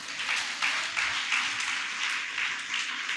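Church congregation clapping hands together during a worship service, a steady broad wash of applause at moderate distance with no speech over it.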